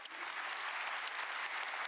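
A brief burst of dense applause from an audience at a national policy briefing event, steady and even throughout, with no talk over it.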